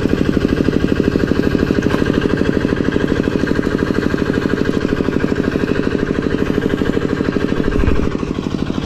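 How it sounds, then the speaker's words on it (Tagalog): A machine engine runs loud and close with a rapid, even chugging pulse that stays steady throughout, briefly swelling near the end. "may makina, may medyo maingay"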